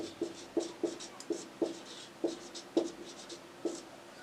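Pen writing out geometry working for a class 10 maths problem, heard as a series of about ten soft taps and scratches in an irregular rhythm, close and fairly quiet with no talking.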